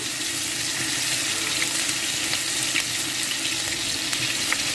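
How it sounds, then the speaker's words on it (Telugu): Ginger-garlic paste, four spoonfuls, frying in oil in a pan for fish pickle, giving a steady close hiss and crackle that holds at an even level throughout, with no voices. "ఇప్పుడు ఇదే బాండీలో అల్లం వెల్లిపాయ వేయించేసుకుందాము."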